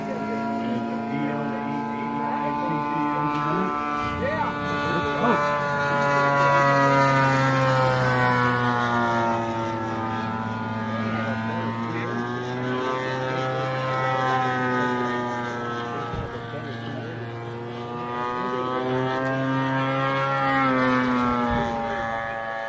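George Jones's propeller aircraft, a Lanier N520, flies at the John Dalton Memorial fly-in. Its loud, buzzing engine drone rises and falls in pitch as it passes, sounding continuously for the whole stretch.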